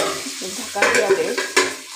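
Vegetable curry with sesame, mustard, turmeric and salt stirred in a pan, close and fairly loud: wet scraping strokes over a steady light sizzle, two sharper scrapes near the end, no talking.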